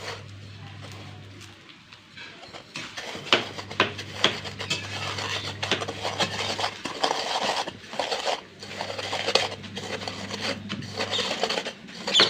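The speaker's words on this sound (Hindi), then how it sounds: "देखो जैसे जैसे मैं गूंद पीस रही हूँ" Roasted gond (edible gum) is ground by hand, giving repeated rasping, rubbing strokes in an uneven rhythm over a steady low hum, fairly quiet and close.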